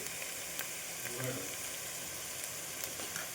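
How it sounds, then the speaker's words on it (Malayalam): Brinjal being sautéed with salt and turmeric in a pan, a faint, steady sizzle with soft stirring scrapes and a few light taps, quiet and close. "പിന്നെ ഈ വഴുതനങ്ങയും കൂടി ഇട്ടിട്ട് വഴറ്റണം"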